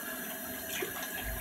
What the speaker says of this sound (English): putting a little more water inside this.